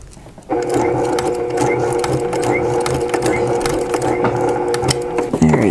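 A sewing machine runs steadily while stitching a simple fabric coupon wallet, a continuous close mechanical whir with a rapid needle rhythm that starts abruptly after a quiet moment and stays loud, with a faint change near the end.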